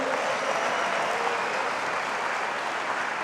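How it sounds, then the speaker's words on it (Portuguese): A church congregation claps during a worship service, a steady wash of many hands applauding with even loudness across the whole stretch, no voices over it. "Só quem acredita aplauda Ele."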